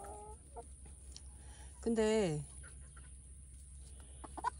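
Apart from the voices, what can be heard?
silkie chickens clucking in a garden pen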